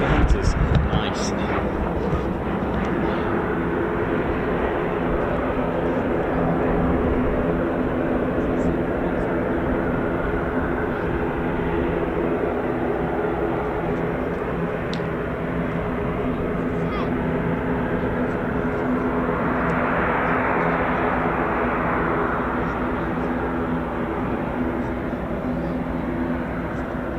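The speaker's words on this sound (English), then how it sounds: "We've got Hawker Hunters." Hawker Hunter jets fly over the RAF Fairford air show as a steady, broad roar that carries for nearly half a minute, swelling slightly toward the end.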